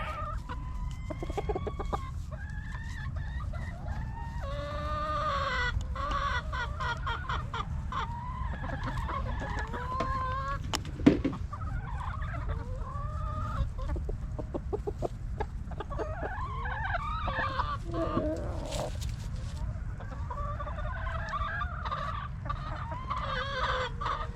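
A rooster clucks repeatedly in quick, excited bursts over a steady low farmyard hum, with other chickens chattering faintly in the background.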